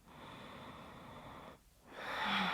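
Slow, audible Ujjayi yoga breath drawn through a constricted throat makes a soft, airy rasp, one long exhale that fades briefly before a stronger, louder inhale, close and alone.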